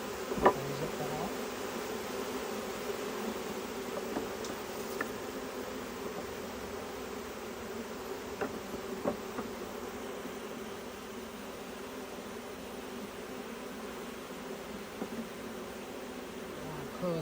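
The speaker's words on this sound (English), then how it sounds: "Close it up before the bees climb up the sides" Honeybees from a package being installed into a Mangum top bar hive make a steady, even buzz, with a few faint clicks and handling noises over it.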